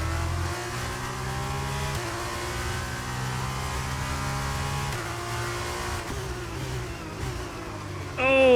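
A Formula 2 race car engine in the F1 23 racing game, holding a steady high-pitched whine that shifts pitch at gear changes, with a sharp rise and squeal at the very end.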